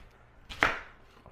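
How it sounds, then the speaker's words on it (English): A single sharp knife stroke chops food on a cutting board during meal prep, one crisp close thud against quiet surroundings. "Okay, so back to chopping."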